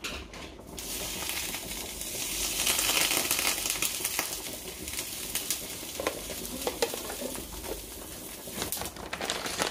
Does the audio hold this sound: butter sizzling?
yes